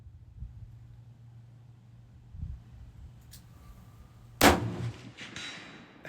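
Handgun shot on a windy IHMSA 200-meter big bore range, fired at a steel ram silhouette target: a single sharp loud crack partway through, followed by a short ringing tail over steady wind noise.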